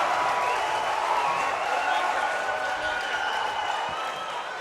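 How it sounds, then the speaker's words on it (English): Crowd at a high school basketball game between the NU Miners and Ponderosa Bruins applauds steadily for several seconds, a broad wash of clapping and murmur that fades slightly toward the end. "Everybody's clapping it."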